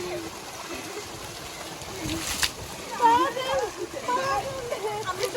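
Running water splashes and sloshes close by in a village, a loose, uneven spattering that continues under a person talking cheerfully.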